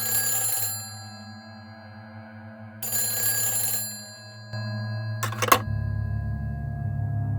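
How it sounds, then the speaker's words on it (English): A telephone rings repeatedly in the video game Silent Hill 4, sounding in three separate bursts of bright ringing over a low, steady droning ambience inside an apartment. "then the phone rings"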